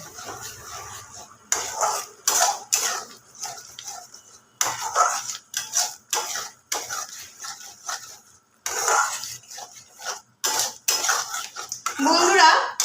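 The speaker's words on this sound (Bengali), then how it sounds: "অল্প একটু মশলা ধোয়া বাটির জল এখানে দেব সামান্য দিয়ে আমি আরও একটু কষবো" Egg and potato masala frying in a pan, heard as intermittent bursts of spoon scraping and clanking against the pan, separated by quiet gaps, with someone talking between the strokes.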